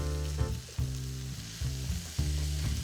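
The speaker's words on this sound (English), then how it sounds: "Continue sauteing, and then when the potatoes and carrots are tender, you can drain those and add them in." Potatoes, carrots and other vegetables sautéing with sea salt and pepper for a vegan samosa filling, a loud close sizzle in repeated bursts as the pan is stirred and tossed, with no talking.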